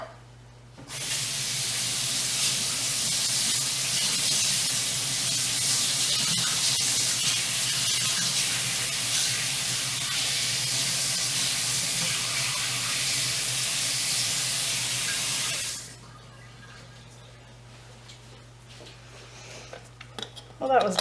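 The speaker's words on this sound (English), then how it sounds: "Rinse this off really quick." Running water rinses soap off in a steady, loud hiss for about fifteen seconds, then stops, leaving a low background hum.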